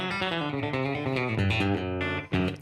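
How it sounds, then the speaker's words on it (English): An electric guitar plays through a Woodshed compressor into a 1963 Deluxe Reverb amp. Clean, sustained notes and chords ring out with smooth, even dynamics, and one sharp attack comes near the end. "What you're hearing right now is just the Woodshed comp into the deluxe."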